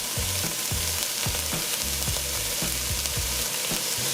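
Chopped garlic frying in a pan for garlic shrimp, a dense, steady sizzle with regular soft thumps of stirring, close up and without speech.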